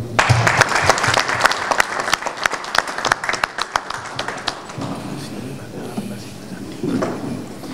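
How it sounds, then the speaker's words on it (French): Audience applause from mothers' gathering at a Congolese community event in Paris, dense clapping filling the first five seconds, then thinning into softer scattered claps and crowd murmur. "Il faut les applaudir."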